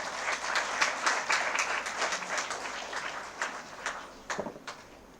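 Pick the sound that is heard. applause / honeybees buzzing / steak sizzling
applause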